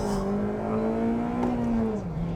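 A 2008 Honda Civic Type R FD2R engine pulls through the revs on a drive, a steady rising drone heard from inside the car, loud and continuous with no talk.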